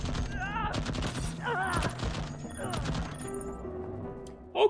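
An automated turret firing in the video game Deathloop, heard as rapid, dense bursts of gunfire with metallic impacts, loud and close, ending in one sharp hit.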